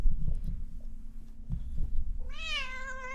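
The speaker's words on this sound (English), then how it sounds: "That HD cat meow." A cat meows once near the end, a clear drawn-out call with a rising and falling pitch, sounding crisp and close after a stretch of low rumbling with no one speaking.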